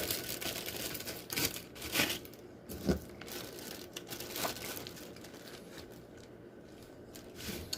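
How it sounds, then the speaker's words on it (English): Crinkling of a small plastic bag as food is packed into it in a home kitchen, with several sharp rustling bursts early on, then softer handling noise close by, no talk. "We're gonna put these in a little plastic bag."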